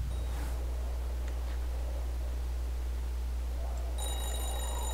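A telephone in a phone booth inside a horror video game starts ringing near the end, as a bright, thin electronic ring. It rises over a steady low hum and hiss of background noise.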